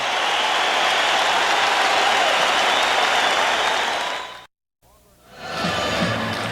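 Basketball arena crowd at the Palace of Auburn Hills during game 1 of the 1989 NBA Finals between the Pistons and Lakers, a loud sustained roar and cheer that cuts out abruptly, then swells back.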